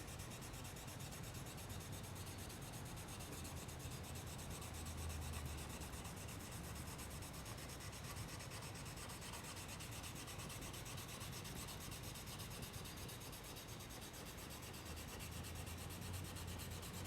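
A Japanese chisel's back rubbed flat on a sharpening stone makes a steady, continuous gritty scraping that carries on without pause, faint and close, with no voices.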